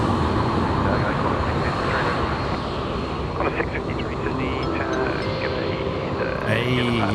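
Aircraft at Sydney Airport at night, a steady broad jet roar heard from a distance with a faint tonal whine, under occasional radio chatter and voices toward the end.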